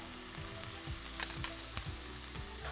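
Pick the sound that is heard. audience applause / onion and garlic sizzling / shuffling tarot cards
onion and garlic sizzling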